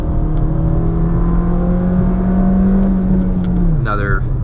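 Inside a 2020 Nissan Versa S with a manual gearbox, the 122-horsepower engine drones and climbs steadily past 5,200 RPM, growing slightly louder before the note drops sharply as the driver shifts.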